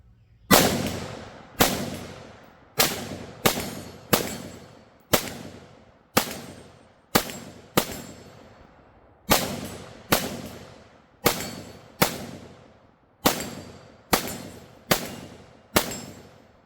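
Bear Creek Arsenal BC15 rifle firing cheap low-quality ammunition, loud sharp gunshots spaced about half a second to a second apart in irregular strings with short pauses, each shot ringing out briefly, no talking.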